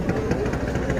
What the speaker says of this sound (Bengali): ট্রলার যাইতেছে